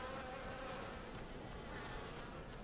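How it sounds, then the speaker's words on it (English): Bees buzz steadily in the background of Final Fantasy XIV, a dense, continuous insect drone that stays fairly faint and unbroken throughout with no talk over it. "Why is it bees in the background? Can we move away from these bees?"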